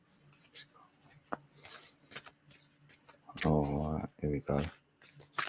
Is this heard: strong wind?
no